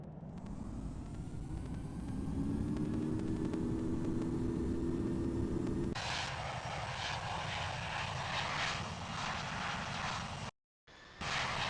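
An aircraft takes off from runway 27 left at London Heathrow: a rising engine whine swells into a broad, steady roar, and the sound drops out briefly near the end.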